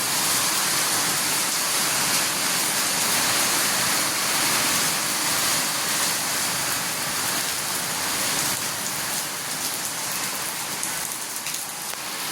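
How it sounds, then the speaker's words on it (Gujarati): Heavy monsoon rain pours steadily, a dense, loud hiss of water striking surfaces that holds constant throughout with no voices. "એવો વરસાદ ચાલુ થઈ ગયો છે ને"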